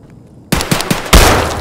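Gunfire in the video game Escape from Tarkov: a few sharp, evenly spaced shots crack out after a moment of quiet, then a louder, heavier blast that rings on. It is close and loud, with no talking.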